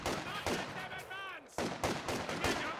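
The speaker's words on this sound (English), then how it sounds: "look at this gunner getting chain sniped" Gunfire from a Company of Heroes 2 match, several sharp cracks in quick succession with a brief pause midway, loud and close in the game mix.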